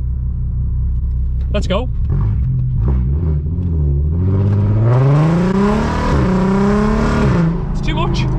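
A loud aftermarket exhaust on a daily-driven car rumbles and rises in pitch as it pulls away and accelerates, deep and close, after a brief spoken line at the start.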